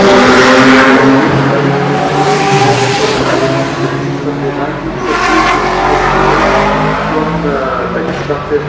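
Ligier JS P2 Nissan race car number 23 at the Le Mans 24 Hours, its engine revving loudly and swelling as it passes close by, with a French commentator talking over the engine noise throughout.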